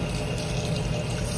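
Hot tap water runs steadily over skateboard bearings during cleaning, a close, continuous splashing rush of water with no pauses and no voices.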